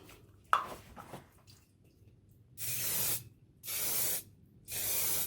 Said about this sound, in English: I'll be using hairspray to seal the oil pastels